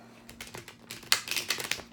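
Tarot cards get one quick shuffle: a brief flurry of soft, close clicks and papery flicks, building in density toward the end and played at low volume with no talk.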